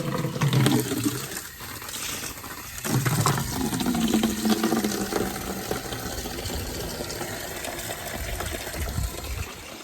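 Water gushes and splashes as it fills a farm animal container for pigs, loud at first and then settling into a steady pour with mechanical rattling and no talk.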